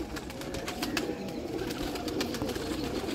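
Sialkoti flying pigeons coo softly on a rooftop, a faint, steady murmur of overlapping low calls with no voices.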